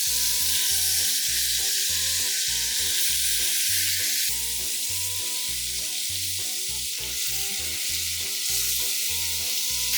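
Chicken pieces sizzle loudly in hot oil, a dense continuous crackling hiss with occasional stirring, close up and with no talking.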